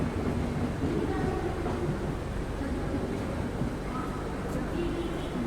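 A train pulls out from platform 6 at a railway station, a steady low rumble and rolling wheel noise running continuously at moderate loudness, with faint voices in the background.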